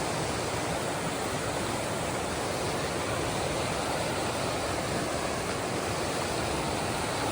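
River in the Great Smoky Mountains rushing steadily over rocks, a dense, unbroken broadband roar of flowing water heard close and loud throughout, with no voices.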